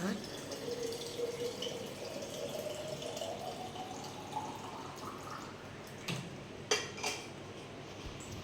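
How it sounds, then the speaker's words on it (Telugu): Water from a tap runs steadily into a bottle at home, its pitch slowly rising as the bottle fills. The sound is quiet and close, followed by a few light clinks of dishes. "మా చెల్లి బాటిల్కి వాటర్ పడుతుంది"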